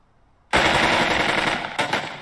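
Sustained machine gun fire in the Burden of Command tactical wargame bursts in abruptly after a quiet moment, a loud, dense rattle of rapid shots that rolls on without pause to the end.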